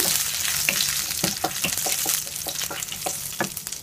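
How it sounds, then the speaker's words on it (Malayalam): Mustard seeds, dried red chillies and curry leaves sizzle loudly in hot coconut oil, with sharp popping crackles and rhythmic scraping strokes of a spoon stirring through the pan, no talk. "ഇതിലോട്ട് ഒരു ടീസ്പൂൺ കടുക് ചേർത്ത് പൊട്ടിക്കണം ഇനി നമുക്ക് രണ്ട് മൂന്ന് വറ്റൽമുളക് കുറച്ച് കറിവേപ്പില ഇവ കൂടെ ചേർക്കാം ഇതിനെ നമുക്ക് നന്നായി ഇളക്കാം"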